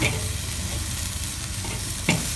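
Food sizzles steadily on a hot barbecue grill, a soft constant crackle with a brief sharper pop near the end, no voices.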